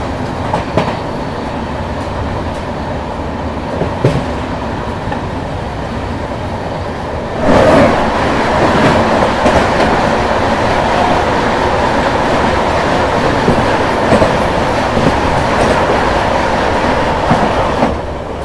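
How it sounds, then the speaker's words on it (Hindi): At night, the August Kranti Tejas Rajdhani Express rushes past close by, loud and continuous, with rhythmic clickety-clack of wheels over rail joints that swells sharply midway and holds at full roar. "सामने से अभी आ रही है अगस्त क्रांति तेजस राजधानी एक्सप्रेस।"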